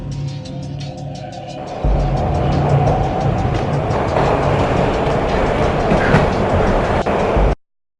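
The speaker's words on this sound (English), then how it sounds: "This was my second train ride of the night." A train ride in the video game Max Payne: a loud, steady rumble of rolling wheels with a rhythmic clatter, which swells after a couple of seconds and then cuts off abruptly. There is no talk.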